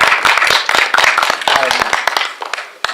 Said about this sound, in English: if y'all can just please give him a round of applause